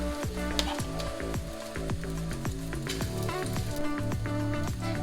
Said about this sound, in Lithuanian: Blynus apkepiname iš 2 pusių.